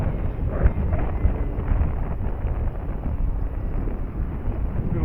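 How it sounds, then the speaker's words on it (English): Steady wind buffeting the microphone on a breezy day at an RC flying field, a continuous loud low rumble with gusty surges and no other clear sounds. "we got pretty breezy today"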